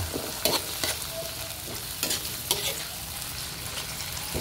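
Tomatoes being stirred into ground pork frying in a pan, with a steady sizzle under repeated scraping strokes of a spoon or spatula, close and moderately loud, no talking.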